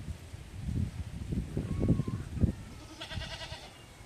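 A lame goat on a farm bleats a few times amid soft rustling and low background noise, with a brief higher-pitched call near the end.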